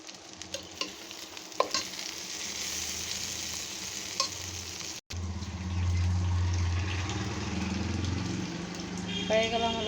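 Taro stolons stir-fried in a pan with black cumin, cumin and fenugreek, a close crackling sizzle with stirring scrapes, breaking briefly before a louder, steadier frying hiss.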